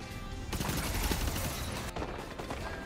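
Grenade blast and gunfire from Destiny 2 Lightfall in a dense, loud mix of bursts and rattling shots, with a sharp break and a second volley near the end, no talking.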